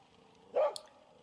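A single short dog bark rings out against a quiet background, followed at once by a brief high click.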